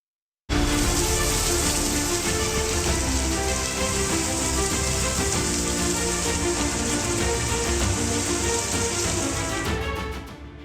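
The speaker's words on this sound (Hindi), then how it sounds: "पर्वत से लेकर के मैदानी कई इलाकों में झमाझम बारिश हो सकती है" Heavy rain pours down steadily in Uttarakhand, a loud, dense, continuous hiss of drops hitting surfaces that starts abruptly and carries on without pause before fading at the end, with no voices.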